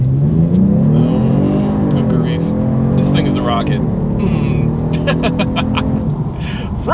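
A 2022 Genesis G70 with a twin-turbo V6 accelerates hard onto a main road, its engine roaring loud and steady as it climbs through the revs, with a driver talking over it.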